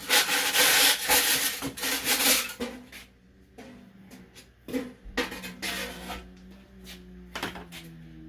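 A brush is shoved into a woodburner stove pipe and flipped back and forth, giving loud scraping scrubbing strokes at first, then quieter intermittent rubs and clunks.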